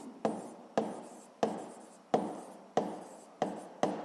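A pen moves across a notebook page in seven evenly spaced, scratchy strokes, each starting sharply and fading, recorded close up with no voices.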